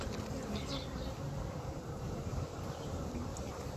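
Honey bees buzz steadily around an open hive with the queen being returned, a continuous dense insect drone filling the scene at close range with faint outdoor ambience.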